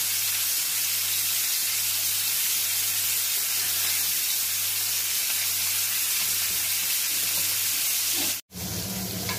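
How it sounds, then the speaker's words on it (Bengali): Pomfret toast fries in a pan over a lowered gas flame, giving a steady, close sizzle and hiss throughout that cuts off sharply near the end. "গ্যাসের ফ্লেম আমি কমিয়ে দিলাম এবং 5 মিনিটসের মধ্যেই আমার পমফ্রেট টোস্টটা রেডি হয়ে যাবে।"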